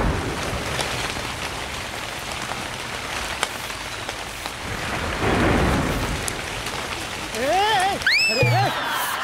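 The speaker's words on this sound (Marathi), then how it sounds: "अचानक पाऊस आला" A sudden rain-and-thunder sound effect from a Marathi TV comedy sketch show: a loud, steady hiss of pouring rain with rolling thunder swelling midway, then a few quick rising whistle-like tones near the end.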